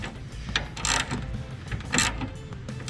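A wrench works a 19 mm nut on the steering pinion gear of a John Deere D Series riding mower, giving two bursts of ratcheting and metallic scraping at close range with quiet handling noise between them.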